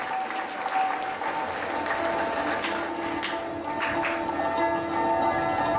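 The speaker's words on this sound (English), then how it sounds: "I request all to give all the achievers a big round of applause and cherish their achievements." A crowd applauds college achievers at a pre-Independence Day function, steady dense clapping filling the whole stretch at a moderate, even level.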